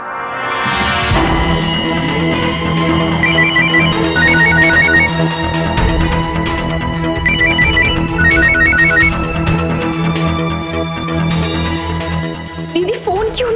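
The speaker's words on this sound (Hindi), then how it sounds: "दीदी फोन क्यों नहीं उठा रही?" A phone ringtone plays loudly and repeatedly, a bright electronic melody with bursts of trilling tones, continuing for over ten seconds.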